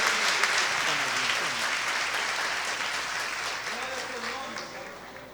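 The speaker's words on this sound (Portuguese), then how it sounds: "Você pode aplaudir ao Senhor aí" Church congregation applauding during a Good Friday Passion service, a steady wash of clapping throughout with a preacher's voice running over it.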